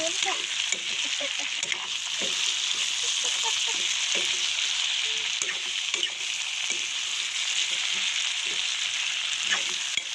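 Pork fries in a wok without oil, a bright, constant crackling sizzle close up, broken by intermittent scraping and clinking as it is stirred.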